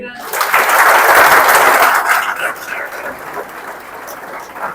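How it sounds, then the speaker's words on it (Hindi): An audience at a hospitality lecture in Pune applauds the chefs with loud, dense clapping that swells at once, holds for about two seconds, then thins out, with a voice speaking faintly underneath. "आपके शेफ आए हैं, उनको भी तालियां दीजिए"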